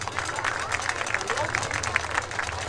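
Clapping and light cheering rise from an audience honoring team members at a school gathering, a crowd sound of moderate loudness mixed with a murmur of voices.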